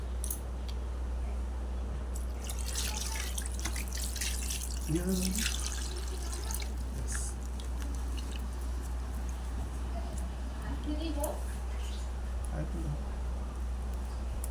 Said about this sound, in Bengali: বন্ধুরা মাছ কাটা হয়ে গেছে, এবার আমি ধুয়ে নেবো।